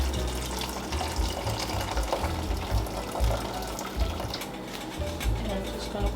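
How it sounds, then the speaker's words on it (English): Homemade soup dumpling broth poured through a fine mesh strainer, a steady close splashing and trickling of liquid running for several seconds under quiet background noise. "I have a fine mesh strainer right here, and I'm just going to set that on top just like that, and pour this"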